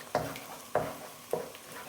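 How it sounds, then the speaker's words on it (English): Egg being stirred around a frying pan for egg fried rice, three or four evenly spaced scraping strokes over a soft constant sizzle, close and moderately loud. "Just keep stirring it around."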